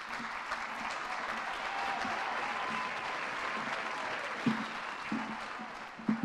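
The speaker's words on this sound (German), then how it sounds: "Ein Applaus nochmal." Audience applause at a German media award ceremony, a sustained even patter of many hands clapping, fairly distant, with a few louder individual claps near the end.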